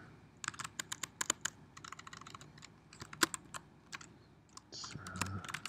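Rapid clicking of a computer keyboard as Python code is typed, irregular bursts of keystrokes close up and fairly quiet, with a faint voice near the end.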